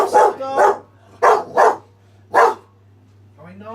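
A dog barks in five sharp, loud bursts, two quick pairs and then a single bark, close by over a steady low hum, with a short whine or voice at the end.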